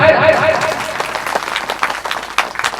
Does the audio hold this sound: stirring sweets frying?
no